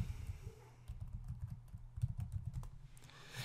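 Close, quiet typing on a computer keyboard: a quick irregular run of key clicks and taps lasting a few seconds, with no voice.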